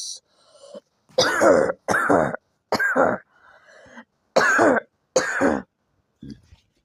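A series of cartoon coughs and throat clears, about six loud, voiced bursts with short pauses between, close and dry over silence, made by voice actors for a zombie character.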